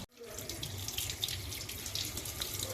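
Tap water runs steadily into a sink while chicken pieces are rinsed by hand, a close splashing stream with small irregular splatters throughout.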